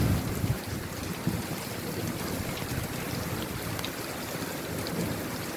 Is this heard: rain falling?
yes